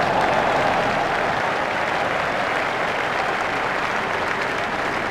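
A cricket stadium crowd at a Sri Lanka versus Australia T20 match applauds and cheers a shot, a dense continuous roar of clapping that holds at a steady loudness throughout.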